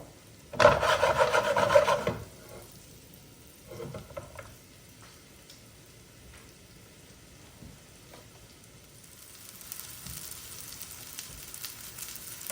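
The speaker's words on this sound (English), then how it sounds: "we're just gonna kind of saute those in there" Portobello baby bella mushrooms sautéing in a pan over medium-high heat: a loud burst of scraping and rasping sizzle near the start, then quieter stretches before a steady, brighter sizzle builds toward the end.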